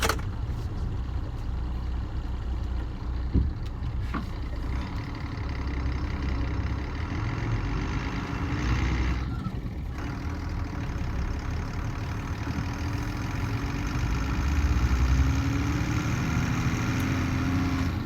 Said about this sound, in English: what you can hear burbling away quite nicely there is a 7 litre straight 6 diesel turbocharged